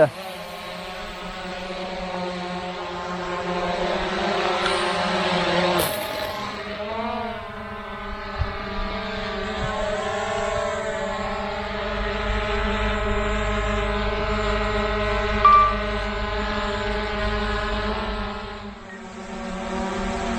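Two drones, a Power Egg X and a DJI Mavic Air 2, whining overhead with stacked propeller tones that shift in pitch as they pass and return, fairly close and continuous, with a brief voice partway through.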